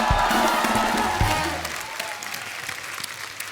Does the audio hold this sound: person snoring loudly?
no